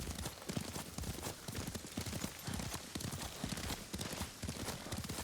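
Horse hooves clip-clopping while riding in the video game Ghost of Tsushima, a steady, loud, rhythmic galloping beat that runs throughout without talk.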